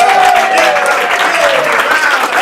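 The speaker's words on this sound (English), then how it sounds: "give her a big round of applause" A studio audience breaks into sustained applause for a contestant on an afternoon game show, dense steady clapping throughout with a few voices calling out over it.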